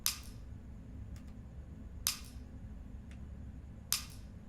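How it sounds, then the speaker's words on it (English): Shotgun in the video game Lethal Company fires three sharp, bright blasts about two seconds apart, each followed by a faint click of reloading, over a low steady background hum. "in this clip, I'm going back and forth between shooting and reloading"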